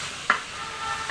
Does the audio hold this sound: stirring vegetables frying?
yes